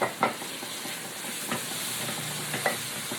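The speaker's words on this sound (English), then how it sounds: "We're just going to mix this and saute this for about 2 more minutes." Spices with chili powder and ground turmeric sautéing in a pan for butter chicken, with a steady close sizzle and a few scraping stirs of a spoon.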